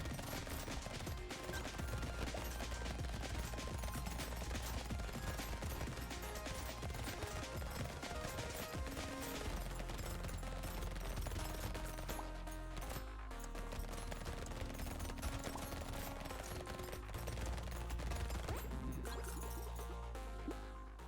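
Fourteen SMGs firing at once in the video game Brotato, a dense nonstop rattle of rapid gunfire layered with game effects throughout, fairly quiet overall.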